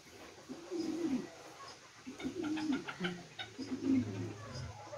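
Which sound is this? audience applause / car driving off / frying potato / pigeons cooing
pigeons cooing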